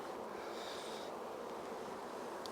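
Honey bees buzz around an opened beehive super, a close steady insect drone with no voices.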